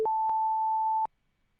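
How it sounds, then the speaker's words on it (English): Computer-generated pure sine tones play in sequence: a brief lower tone is followed by a steady higher tone about one second long, with small clicks where the tones start and stop, then silence. "hopefully you heard a sequence of tones, and actually by having and doubling the frequencies, we've actually made successive octaves"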